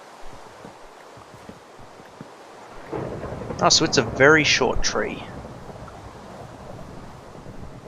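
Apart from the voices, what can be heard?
rain and thunder in the video game Minecraft (Feed The Beast)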